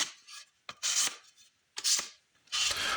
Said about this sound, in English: I hit the edges with 220. Just a quick hit by hand